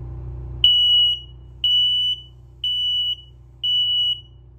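An RV smoke and carbon monoxide detector in a 2024 Cruiser RV Stryker toy hauler sounds four loud, shrill test beeps at a steady, even rhythm over a faint low background hum.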